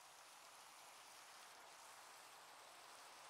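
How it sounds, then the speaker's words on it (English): Steady rain falls outdoors, a faint, even hiss of drops with no pauses, alone and without voices. "It's just raining."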